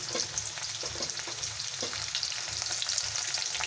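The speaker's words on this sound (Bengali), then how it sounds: "পেঁয়াজটাকে আমি ভেজে নেব" Steady sizzling and crackling of onions frying in hot oil, with occasional stirring scrapes, close and continuous with no talking.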